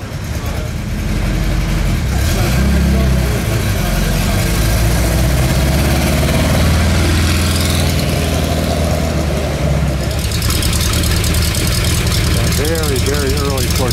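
A 1952 Porsche engine idling at Monterey Car Week, a steady, loud, low rumble running throughout with someone speaking over it.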